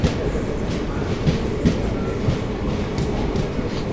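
Aboard the 22158 Chennai Egmore–Mumbai CSMT superfast express as it runs: a loud, steady rumble of wheels and carriage, broken by regular rail clacks and occasional knocks.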